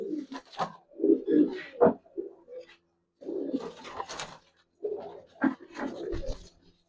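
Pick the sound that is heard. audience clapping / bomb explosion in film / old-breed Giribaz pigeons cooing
old-breed Giribaz pigeons cooing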